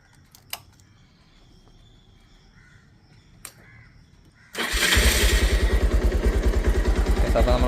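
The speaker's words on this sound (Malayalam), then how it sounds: "എഞ്ചിൻ ഓൺ ചെയ്തിട്ടുണ്ട് ഒരു പത്ത് മിനിറ്റത്തേക്ക് നമ്മൾ ആക്സിലേറ്റർ അങ്ങനെ ഒന്നും കൊടുക്കാൻ പാടില്ല" A motorcycle engine, freshly dosed with engine flush, starts after a few quiet seconds of distant crow caws and then idles loudly and close with a steady, even throb and no throttle.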